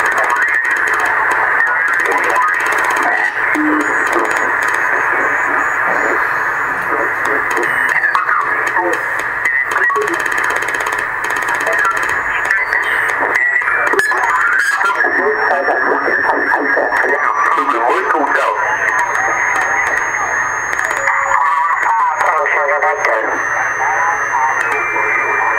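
Radio reception plays through a cheap communication speaker on a homebuilt BITX 40 transceiver: a steady band of hissy, narrow, midrange-heavy audio with faint voices and tones running continuously at a constant level for the whole stretch.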